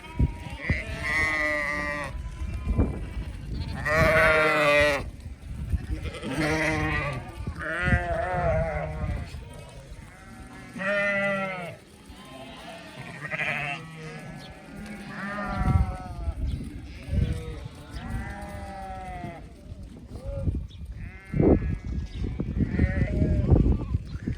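Sheep and a lamb bleat repeatedly at close range, the wavering calls coming one after another across the stretch with some overlap, amid outdoor farm noise.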